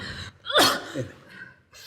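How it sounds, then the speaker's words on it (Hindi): A single sharp sneeze from a woman suffering a heavy head cold, a quick intake of breath then an explosive burst, close and fairly loud, followed by a softer exhale. "सवेरे से छींके चली जा रही हो,"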